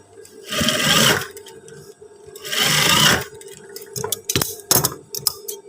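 A sewing machine backstitches along a trouser seam: two sustained bursts of loud motor-driven needle stitching, each about half a second to a second long, are followed by scattered clicks and handling knocks close by.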